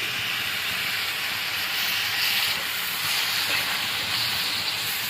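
Tomatoes fry in a pan for a capsicum tomato gravy, giving a steady loud hissing sizzle that swells slightly midway and carries on without pause.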